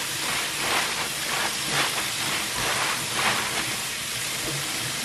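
Onions sizzling in olive oil in a pan give off a steady, loud, close hiss with soft crackles that continues unbroken, with no voices over it.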